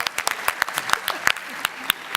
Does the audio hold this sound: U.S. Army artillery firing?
no